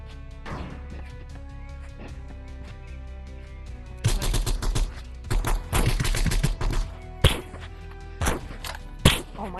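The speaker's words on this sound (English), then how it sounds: "why do I keep missing my shotgun shots?" Gunfire from shotguns in the VR game Animal Rivals, loud sharp blasts in quick irregular bursts over steady game music, with several clustered volleys in the second half.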